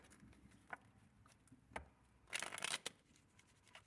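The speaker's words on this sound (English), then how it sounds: "Why can't I shuffle the cards?" Tarot cards are shuffled quietly nearby, a few soft taps followed by a brief riffling burst, then a light snap.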